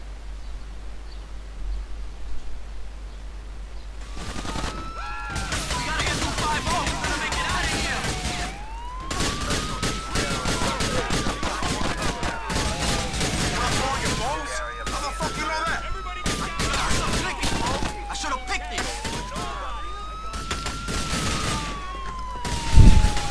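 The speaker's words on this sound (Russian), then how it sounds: "Сверху еще кто-то стреляет." Grand Theft Auto IV gameplay with a police siren wailing steadily over dense crackling gunfire and scattered shots, loud and continuous, with voices talking underneath.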